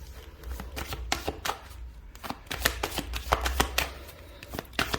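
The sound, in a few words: shuffling Astro Oracle deck cards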